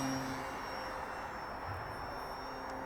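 An Arrows RC Tecnam electric radio-controlled airplane on 4S batteries flies overhead with a steady whining motor and propeller drone, fairly distant and even throughout, with faint wind noise.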